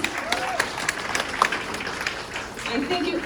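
Audience applause at a tribute to a late father, honoring the dancers, a soft, diffuse wash of clapping with some crowd murmur and voices mixed in.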